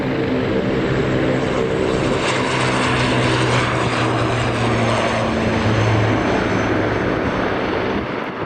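A propeller aircraft takes off at Aberdeen Dyce Airport, a loud sustained drone with steady humming engine tones and a throbbing buzz, staying strong and continuous throughout.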